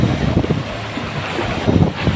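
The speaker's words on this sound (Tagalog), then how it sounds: "Malaki yung alon, baka mabasa tayo eh." Large sea waves surging near a rocky coastal cave at Hulagaan, heard as a steady washing roar with wind buffeting the microphone, swelling louder near the end, with no talking.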